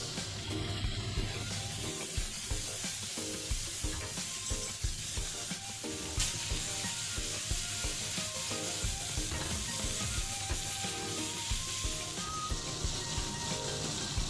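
Pork belly slices fry slowly in a pan, giving a steady close sizzle with scattered pops and occasional faint stirring scrapes over several seconds, without talk.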